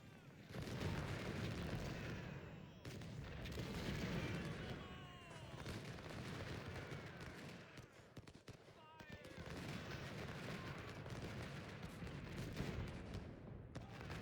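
Gunfire and artillery rumble through an Ultimate General: Civil War battle at Gettysburg or Chickamauga, with overlapping musket volleys and booming cannon shots in irregular waves, fairly quiet and continuous throughout.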